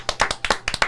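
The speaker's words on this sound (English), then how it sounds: "Big clap." A small group claps in a quick, uneven burst: about eight sharp hand claps over a second, near and fairly loud, with no voices over them.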